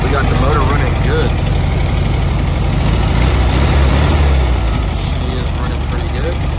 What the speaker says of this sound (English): as you can tell, we got the motor running good